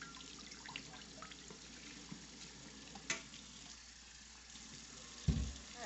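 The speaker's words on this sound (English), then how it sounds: "This is the well water that we have here." Well water runs from a kitchen tap in a steady, hissing stream that stays constant and fairly faint, with a brief clatter near the end.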